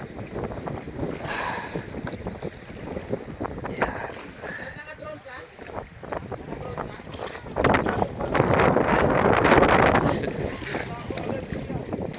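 Strong wind buffets the microphone in rumbling gusts, swelling louder toward the end, with people talking over it outdoors.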